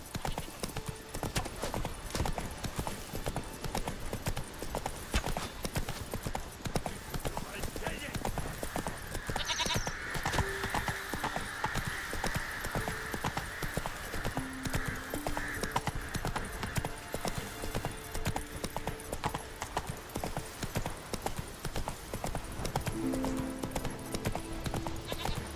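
Horse hooves clip-clop steadily as Roach is ridden in The Witcher 3: Wild Hunt, a continuous rhythmic trot over game music and ambience, with someone talking over it and a brief whinny.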